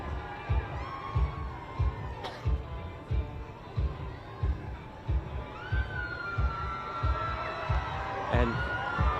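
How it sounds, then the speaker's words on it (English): A large street crowd cheers and shouts as King Charles walks over to greet people, the rising roar carried at a moderate distance with rhythmic thumping and scattered voices throughout. "you are hearing the large crowds cheer now as King Charles is walking over"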